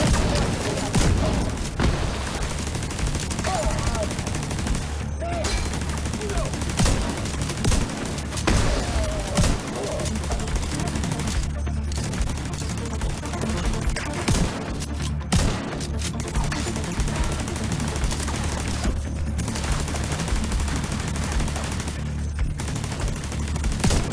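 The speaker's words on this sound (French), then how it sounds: "C'est une tourelle!" Automated turret gunfire in The Division 2 rattles on continuously, dense rapid bursts with booms layered throughout a loud firefight, little speech audible.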